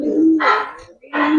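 Gribaz and coloring pigeons on a pigeon farm give two close, soft cooing calls in quick succession, loud and clear with little else around them.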